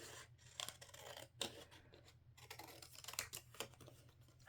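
Scissors snip through a small scrap of fabric in a series of short, crisp cuts with brief pauses between them, close and fairly quiet, with no talking.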